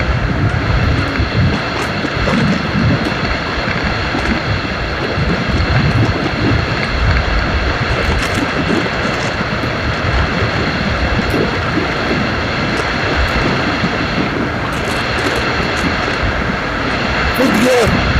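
A Honda Hornet 160 motorcycle runs at speed in fifth gear, its steady engine drone blended with heavy, continuous wind buffeting across the microphone from start to finish.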